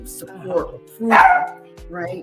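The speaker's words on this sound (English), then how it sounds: "Excuse my little dog." A small dog barks in short yappy bursts, three or four quick barks at close range, mixed with a person talking.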